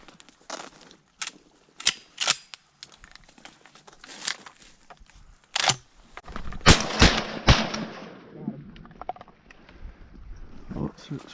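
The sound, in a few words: shotgun shots during a duck hunt in a flooded corn field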